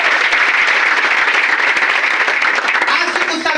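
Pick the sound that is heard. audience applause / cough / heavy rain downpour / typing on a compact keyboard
audience applause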